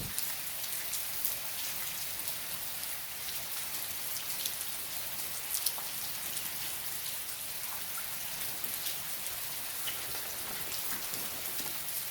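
Steady rain falls throughout, a dense hiss of drops on a surface with scattered sharper taps, constant and close with no voices, outdoors near a truck.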